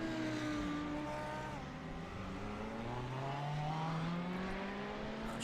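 The number 73 Ferrari race car spins at Spa, its engine note sweeping down and then rising again as it comes around, steady and moderately distant over an even backdrop of track noise.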